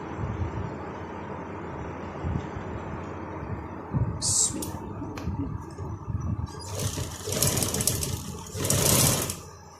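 Sewing machine stitching a strip onto a frock, a continuous mechanical whir up close with bursts of faster running and brief clicks near the end.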